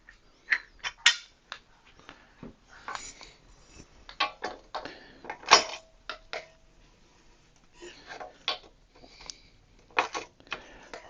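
A torque wrench handled on an early-1990s Schwinn Paramount Series 30 PDG bicycle: sparse metallic clicks, light clanks and creaky mechanical rattles close by, coming in irregular bursts with quiet gaps between them and no talking.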